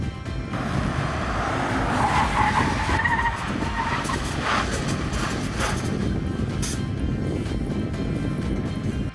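Car braking hard from speed during a stopping-distance test, with loud, sustained tire skidding and squealing that rises then holds steady, set against road and engine noise, no voices.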